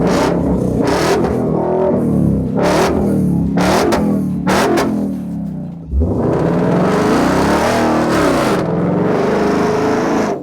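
A $300K Bronco Baja race truck's engine turns over and fires, then roars through loud repeated revs with sharp throttle blips, close and dominant, with no talk over it.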